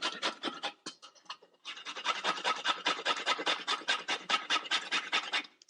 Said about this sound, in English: You just grate your grater or your little hand microplane, and we're just going to grate them in